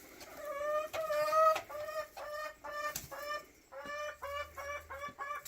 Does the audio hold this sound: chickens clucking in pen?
yes